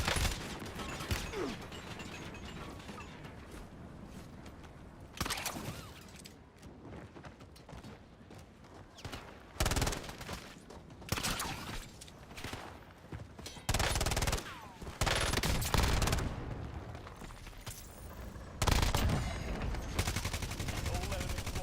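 Incoming gunfire in a squad-based shooter game, rapid bursts of automatic shots and scattered single cracks arriving in irregular volleys, loud and close, with mechanical clatter between them.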